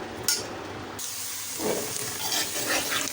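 Chopped onions sizzle in a pot of hot oil while making dhaba-style chana dal, starting with a clink, then a steady, close frying hiss that swells after a second or so.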